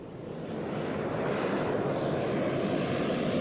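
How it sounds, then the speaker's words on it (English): A small propeller plane at Nuuk airport in Greenland gives a steady droning engine roar that swells slightly and holds, fairly loud, with no speech. "Only small planes can land at the airport in Nuuk."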